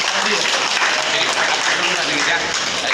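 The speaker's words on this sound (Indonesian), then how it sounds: "Tepuk tangan buat Hasbi Fadil" Applause for Hasbi Fadil at a team welcome and farewell gathering, a dense wash of clapping from a group, loud and steady with voices mixed in.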